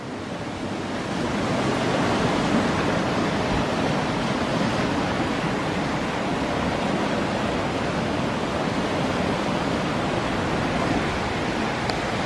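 A flooded woodland stream in full spate rushes toward the Seine, a steady, loud, close roar of churning water that continues without a break and carries no talk.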